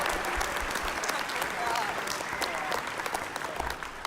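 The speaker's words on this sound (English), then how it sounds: "Let's give them a round of applause." Steady audience applause at a live Zelda music performance at PAX South, a crowd clapping continuously with some cheering and voices mixed in throughout.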